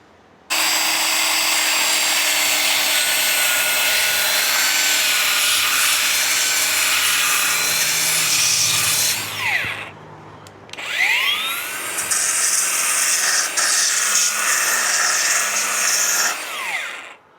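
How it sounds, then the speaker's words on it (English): A hand file rasps across a 4x2 piece of wood with a 120 grit, a loud continuous scraping that stops briefly about halfway, then resumes and runs on to the end, with no talking. "I'm just going to do a little bit of filing just to see sort of how it goes through it with a 120 grit"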